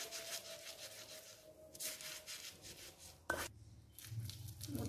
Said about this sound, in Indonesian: Kemudian bunga sepatunya juga dihaluskan sampai halus ya.